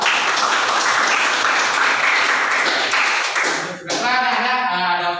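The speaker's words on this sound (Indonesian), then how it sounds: "Beri aplaus untuk Desa ya." A classroom of students applauds a classmate with dense, steady clapping that stops abruptly near the end, followed by a voice speaking alone.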